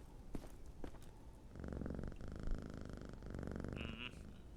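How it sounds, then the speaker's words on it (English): A pet cat purrs softly up close in a quiet indoor setting, the low rhythmic rumble swelling in steady breaths and briefly pausing between them. "Kitty cat."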